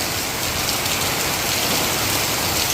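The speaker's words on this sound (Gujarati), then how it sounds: "અહીંયા તો ગાંડાની જેમ જ નવસારીમાં વરસાદ ચાલુ થાય ને એટલે ગાંડાની જેમ પડે" Heavy monsoon rain pours down in Navsari, a dense, steady roar of water hitting surfaces close by, unbroken for the whole stretch with no voices over it.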